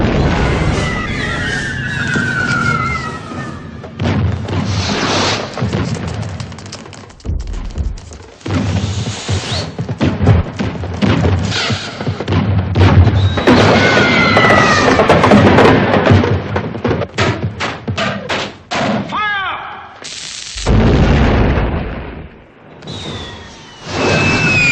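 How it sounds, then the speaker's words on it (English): Fireworks shot off in the Mary Poppins film during a song, with loud repeated bangs, crackling bursts and whistling streaks filling a busy soundtrack. "During the song, Admiral Boom and Mr. Binnacle shoot off fireworks."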